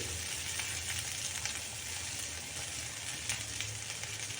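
Sesame seeds roasting with red chillies in a pan over low heat give a steady, soft frying sizzle that holds evenly throughout with no talking.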